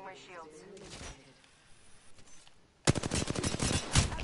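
Gunfire in the video game Apex Legends: a brief voice is heard first, then after a quiet stretch a loud, rapid burst of automatic shots crackles steadily to the end.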